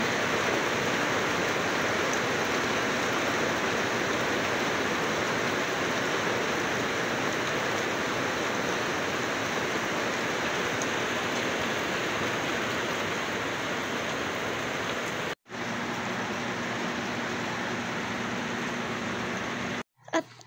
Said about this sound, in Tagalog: At lalong lumakas pa ang ulan